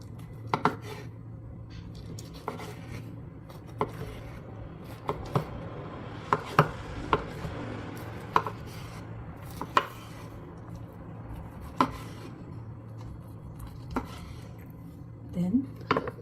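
A knife slices a Korean rolled omelette (gyeran mari) on a cutting board, giving a series of sharp, quiet taps spaced irregularly every second or so, close and clear over a low background hum.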